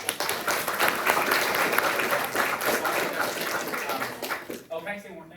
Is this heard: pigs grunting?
no